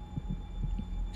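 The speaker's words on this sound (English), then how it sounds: "I can hear their heartbeats." Heartbeats from a TV show, picked up by superhuman hearing: a steady run of soft, low thumps, roughly four or five in a second, over a constant hum with no talk.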